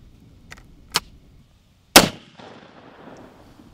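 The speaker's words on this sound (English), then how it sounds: "We're gonna do a buckshot first." A shotgun firing buckshot outdoors, one sharp loud blast with a short echoing tail, preceded by a fainter distant crack or two.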